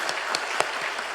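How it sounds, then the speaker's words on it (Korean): Congregation applause welcoming new members during a Sunday church service, a dense steady patter of many clapping hands with a few sharper claps standing out, heard close and without talk. "자리에 일어나시면 박수로 환영하겠습니다"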